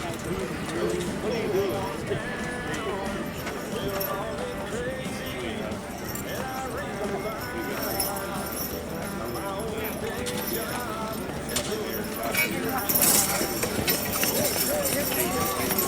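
Horse team Kelly and Tim pulling a boat loaded with 6,100 pounds down the track at a fall fair horse pull, hooves clip-clopping steadily under constant crowd noise and an announcer's voice throughout.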